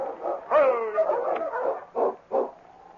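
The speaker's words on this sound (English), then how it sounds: "Sergeant Preston drove his tired dog team into the small settlement called Cross's Landing." Sled dog team barking and whimpering as a radio drama effect, several dogs yipping and barking in close bursts over about three seconds with no talk.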